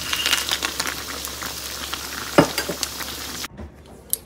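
Fried lentil dumplings (bori) are stirred into greens cooking in a pan, making close sizzling with scraping stirs and a loud knock midway. The sound drops off sharply near the end, leaving faint clinks.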